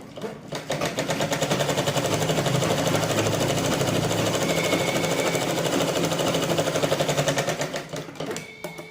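A sewing machine runs in a fast, steady rhythmic clatter while stitching a placket strip onto a blouse, starting and stopping cleanly, loud and close with no talking over it.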